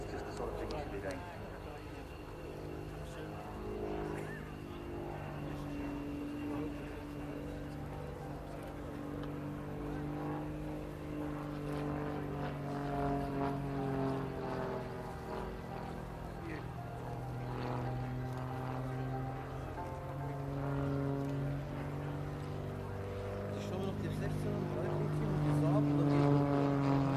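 A Grob G-115E Tutor T1 propeller trainer flies an air show display pass, its engine droning and shifting in pitch as it passes, heard steadily under a commentator's voice.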